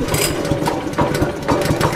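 A small engine, started warm without choke, runs with a steady, rough putter throughout, a continuous mechanical chugging close by with no talk over it.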